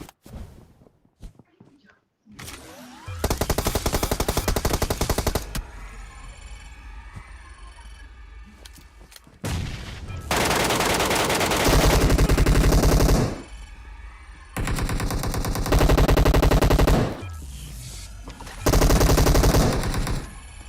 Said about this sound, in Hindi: आखिरकार MK की 8 गोली चलाने के बाद 2-3 गोली लगती है उसे और नॉक हो गया वो